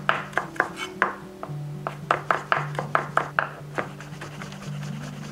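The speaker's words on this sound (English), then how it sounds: "Then roll, then thinly slice." A knife thinly slices rolled Japanese shiso leaves on a cutting board, giving a rapid, irregular series of close crisp taps over a steady low hum.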